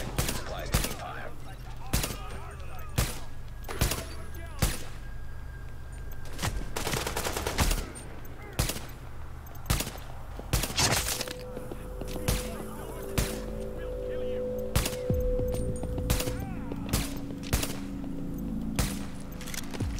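Gunfire in The Division video game: sharp, loud single shots and short bursts crack out at irregular intervals over a low background rumble. A voice speaks briefly between the shots.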